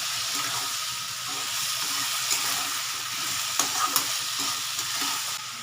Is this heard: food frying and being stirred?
yes